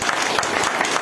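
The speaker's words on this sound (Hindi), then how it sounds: "मैं सबसे पहले आप लोगों के लिए सब अपना अपना के लिए ताली दीजिए प्लीज।" An audience at an incentive trip event claps steadily, a dense, even patter of many hands that fills the whole brief moment.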